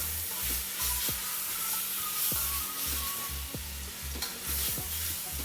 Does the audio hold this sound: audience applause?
no